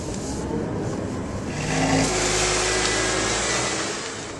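A 2011 Lamborghini Gallardo LP570-4 Superleggera is driven with a loud, broad engine and road roar that swells midway as it accelerates, heard from inside the car with no talking.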